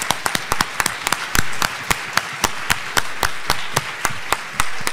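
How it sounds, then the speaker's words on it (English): Enthusiastic applause fills a conference room, dense overlapping claps rattling steadily and loudly for the full stretch as an audience gives student experts a standing ovation. "I think we owe them a standing ovation"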